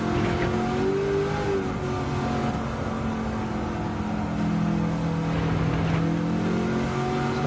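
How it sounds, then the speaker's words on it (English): A TCM Mustang race car engine drones loudly and continuously, its pitch climbing and dipping as it revs through gears. "let you enjoy the sound of the engine"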